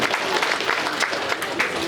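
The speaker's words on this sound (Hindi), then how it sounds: "आम ताली मारिक स्वागत करवा" Audience clapping to welcome leaders at a BJP joining event, with a dense, steady burst of applause from a crowd in an indoor gathering.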